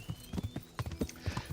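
Horse hooves clip-clopping in Kingdom Come: Deliverance, a steady rhythmic series of about a dozen fairly close thuds at a quick gait, with no talk over them.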